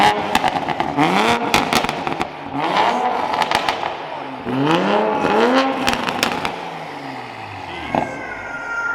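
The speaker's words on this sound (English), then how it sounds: "Could you rev it, Casey?" A Toyota Supra fitted with a Rocket Bunny widebody kit revs repeatedly nearby, its engine climbing and falling in several loud bursts with sharp crackles between.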